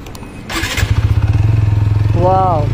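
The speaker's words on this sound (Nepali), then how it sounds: "बाइक स्टार्ट गर्दा बत्ती गयो" A motorcycle engine cranks with a brief clatter, then catches and settles into a throbbing, pulsing idle close by; a voice is briefly heard near the end.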